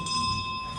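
A bell rings steadily with a sustained, clear metallic tone, loud and close, held for under a second without voices.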